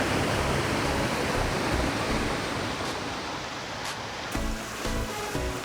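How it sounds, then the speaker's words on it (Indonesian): Sakita waterfall near Morowali pours in a dense, continuous rushing roar of falling water, loud and close, steady throughout with no voices. "Ini dia air terjun Sakita."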